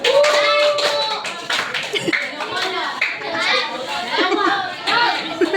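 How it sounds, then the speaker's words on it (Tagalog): Classroom students clap for themselves in a short burst of claps, with children chattering and a teacher's voice over it. "bigyan na natin ng 2 palakpak ang ating mga sarili."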